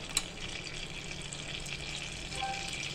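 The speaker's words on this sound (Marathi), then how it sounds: "तेल तापलं की मंडळी त्याच्यामध्ये आपण जिरं टाकणार आहे आणि हिंग जिऱ्याची फोडणी करणार आहे" Cumin seeds sizzling in hot oil for a tadka, a soft continuous crackle and fizz with a small pop at the start, fairly quiet and alone.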